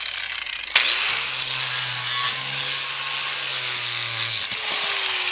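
A power grinder runs continuously and loudly against a wild mustang's hoof during a natural barefoot trim, a harsh abrasive whir starting with a sharp knock and holding steady up close.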